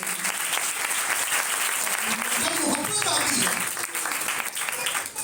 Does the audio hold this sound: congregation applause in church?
yes